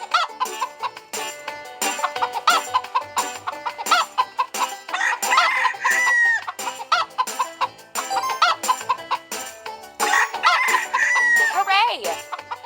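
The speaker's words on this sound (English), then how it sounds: "Our hens are hungry." Hens clucking busily with a rooster crowing twice over them, loud and close in a farmyard as the birds wait hungrily for grain, the clucks coming in a steady choppy rhythm.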